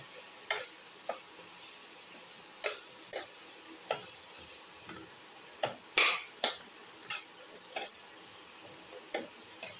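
Cauliflower pieces being sautéed and stirred in a pan, with a faint sizzle and scattered clinks and scrapes of a spoon against the pan at an irregular pace, close and quiet.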